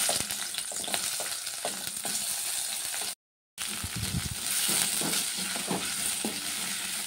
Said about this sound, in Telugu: ఇవైతే ఫ్రై అవుతున్నాయి ఉల్లిగడ్డలు.